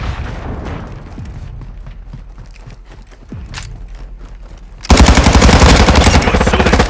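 Gunfire in the video game Call of Duty: Modern Warfare II, scattered shots and impacts that give way to a sudden loud sustained burst of rapid automatic fire in the last seconds.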